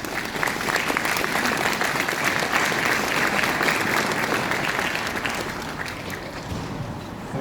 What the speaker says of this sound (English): Big round of applause for Dan, please.